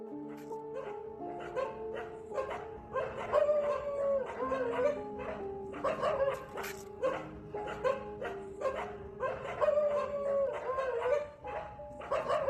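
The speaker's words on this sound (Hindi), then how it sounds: "कुत्तों का वहाँ पे भौंकना" Several dogs bark and yip continuously at night, overlapping barks with some howling and whimpering, fairly close and loud throughout.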